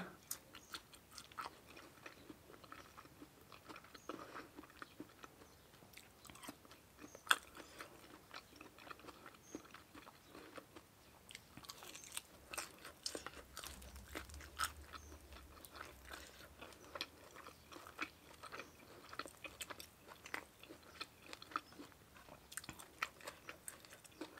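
Close, quiet chewing of crunchy fried chili with fried pork, with irregular crisp crunches and soft bites continuing steadily throughout and no talk.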